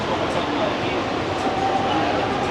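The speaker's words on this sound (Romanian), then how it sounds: "A sosit, este mai mult metrou" A metro commuter train arrives at a station in India, with a dense, steady rumble and hiss that runs without a break under a person talking.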